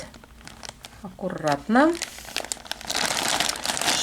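A plastic bag packed with vintage jewelry found at a dump crinkles and rustles up close as its contents are poured out, while someone speaks briefly over the handling.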